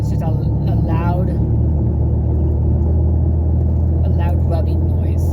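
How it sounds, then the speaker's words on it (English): A worn wheel bearing on a moving car gives a loud, steady low rumbling drone over road noise for the whole stretch, with brief voice-like sounds twice in the background. "rubbing noise, and that's your wheel bearing."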